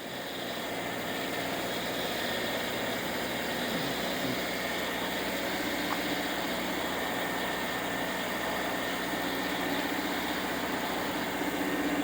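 A Subaru Crosstrek engine idles high, around 1800 RPM, just after a cold start on a January morning, giving a steady broadband drone that stays even and constant throughout with no talking.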